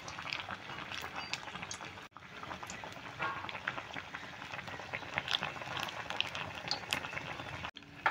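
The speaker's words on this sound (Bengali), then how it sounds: "একটু ধীরে ধীরে ভেজে নিতে হবে, তাহলে ভেতরে ক্যাপসিকামটা সেদ্ধ হয়ে যাবে।" A capsicum chop frying slowly in oil over medium heat, soft continuous bubbling and crackle with small pops, briefly cut twice, no voices.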